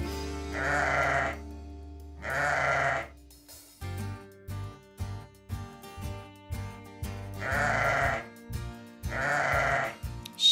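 A sheep bleats in a children's animal-sound guessing game, giving two long wavering bleats, a short musical interlude, then two more bleats, loud and close with no talking.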